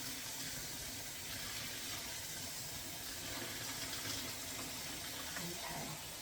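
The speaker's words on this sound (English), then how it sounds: "And then I just boiled up some hot water in my kettle, so I'm going to go ahead and pour that in there as well." Hot water poured from a kettle into a wash basin for blocking a crocheted or knitted garment, a steady close hissing splash that runs unbroken for several seconds with no voices.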